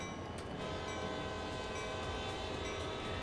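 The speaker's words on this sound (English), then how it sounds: "I'm just going to blow the horn here on a bridge" A train horn sounds on a bridge in a driving simulation, blaring one loud, sustained tone over the continuous rumble of the rolling train, close and alone.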